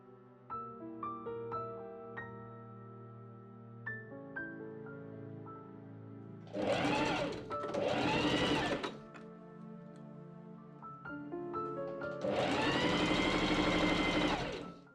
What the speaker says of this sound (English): I pin and machine sew along the top of the back gusset and lining.